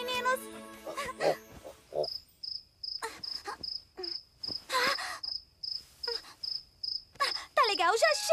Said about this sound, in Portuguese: Eu vou achar o grilo, pegar o grilo e jogar o grilo pra fora de casa.